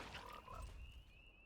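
A faint, low frog croak sound effect from the Frog card in the MTG Arena digital card game, heard alone against a soft, steady background.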